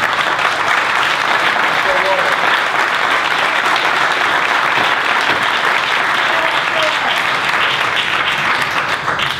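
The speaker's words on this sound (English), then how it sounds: "the longer we clap, the longer we're here" A crowd at a local government meeting applauds, sustained dense clapping throughout at steady loudness, with some voices mixed in underneath.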